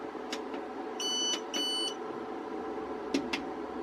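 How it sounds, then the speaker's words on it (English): Two bursts of a steady high-pitched electronic beep, each about a third of a second, over a low background hum, with faint clicks. "it's still got that annoying beep."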